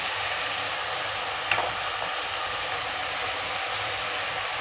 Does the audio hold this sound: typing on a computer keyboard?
no